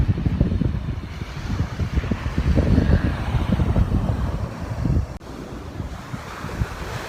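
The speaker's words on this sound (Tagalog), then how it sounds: "nandito tayo sa dagat" Sea waves wash continuously onto a crowded beach with strong wind buffeting the microphone, a loud steady roar with no talking.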